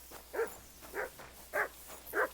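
A dog in the medieval game Kingdom Come: Deliverance II gives four short, evenly spaced barks or yips at moderate distance, each a brief bright burst over a quiet, low background hum.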